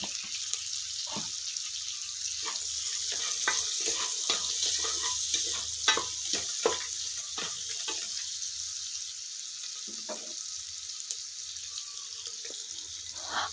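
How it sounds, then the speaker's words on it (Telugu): Onions frying with salt in a pan until golden brown, a steady close sizzle broken by repeated scraping stirs, no voices. "ఆనియన్స్ మంచిగా బ్రౌనిష్గా గోల్డ్ కలర్ వచ్చేంత వరకు వేగనివ్వాలండి"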